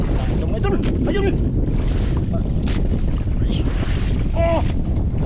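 Strong wind buffets a small fishing boat at sea, a loud constant roar of gusts and wash, while people talk intermittently over it.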